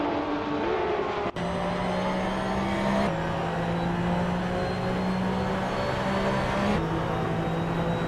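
Simulated racing engine of a 2010 Porsche 911 997 GT3 Cup in a video game, a loud steady high-revving drone with abrupt pitch drops at gear changes, continuous and close, with no voices.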